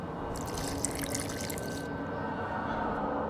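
Water pours steadily into a flask in The Witcher 2, a continuous trickling splash during alchemy preparation, with a brighter hiss through the first half that fades out.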